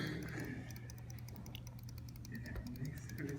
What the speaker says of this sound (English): I'm clicking.